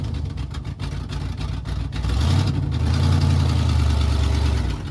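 An old Ford truck engine idles roughly, then revs up around the two-second mark into a loud, sustained low roar that holds steady to the end, close to the microphone.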